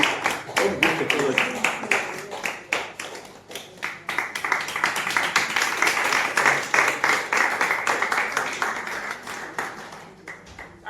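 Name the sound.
audience round of applause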